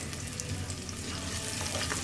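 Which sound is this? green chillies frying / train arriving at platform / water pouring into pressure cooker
green chillies frying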